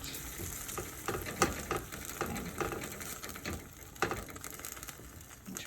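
Ground turkey frying in a pan, a steady close sizzle with scraping and stirring taps from a utensil pushing the meat around, no talk.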